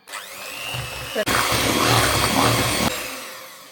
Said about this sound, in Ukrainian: Потрібно тепер міксером все взбити.